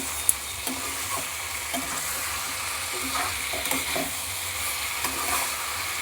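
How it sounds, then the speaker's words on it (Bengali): Potatoes and cauliflower being stir-fried with spices in a pan, a soft crackling sizzle with repeated scraping and clicking of a spoon stirring, moderately quiet and close, no talking. "এবার আলু ফুলকপিটাকে ভালো করে কষিয়ে নিচ্ছি।"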